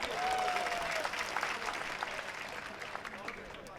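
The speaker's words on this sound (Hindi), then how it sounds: "सम्मान में एक बार ताली बजा के बताइए आप।" Audience applause at a Bhojpuri poetry gathering (kavi sammelan and mushaira) in Nasriganj, a broad wash of clapping that starts strong and slowly fades over a few seconds. A brief whistle-like tone sounds near the start.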